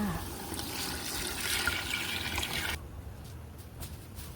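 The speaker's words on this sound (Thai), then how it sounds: "เสร็จเรียบร้อยแล้วเขาก็เติมน้ำจ้า" Water pours into a pot of cooked minced pork and curry paste, a steady broadband rush of liquid filling the pot for about three seconds, then cutting off to a faint quiet background.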